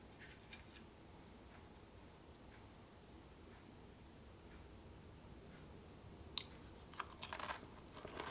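Crunching bites of a saltine cracker topped with Bahamian goat pepper hot sauce, faint and close, with soft crisp crunches growing louder near the end.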